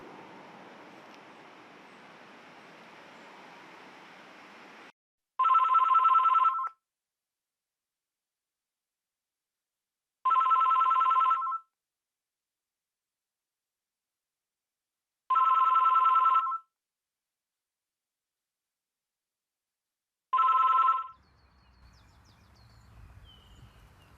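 Telephone ringing four times in evenly spaced bursts about five seconds apart, each a clear electronic trill over near silence, with low background hum before and a faint rustle after.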